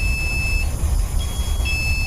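A motion sensor alarm sounds a steady high electronic beep in two stretches separated by a brief gap, loud and close over a low background rumble.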